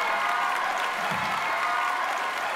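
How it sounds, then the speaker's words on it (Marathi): Applause from a studio audience for a cowboy band on a Marathi comedy show, a dense, steady wash of clapping that holds evenly for a few seconds, with a faint crowd murmur and no one speaking. "तर एकदा जोरदार टाळ्या झाल्या पाहिजेत आमच्या काउबॉय बँडसाठी."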